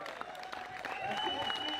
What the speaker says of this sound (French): Merci de les applaudir.